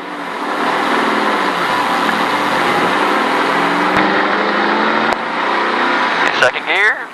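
A stock car at the Richard Petty Driving Experience pulls away on pit road, its engine droning loud and steady close by, rising slightly in pitch before a brief gear change near the end.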